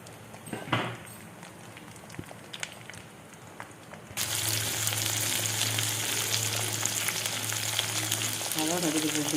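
Washed, peeled small shallots dropped into hot oil with mustard seeds for garlic kuzhambu, a quiet stretch of faint clatter giving way to a sudden loud, steady hissing sizzle that continues to the end.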